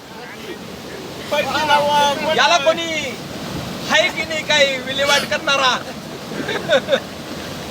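A flooded river rushing near a bridge gives a steady roar beneath a man's loud, close speech.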